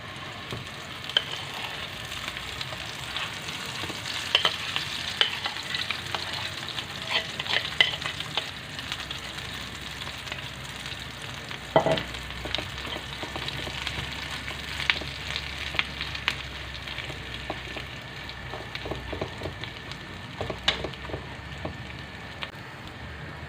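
Potatoes dropped into heated oil fry with a continuous crackling sizzle, popping and spitting at close range, with a few scrapes and clicks of utensils and no speech.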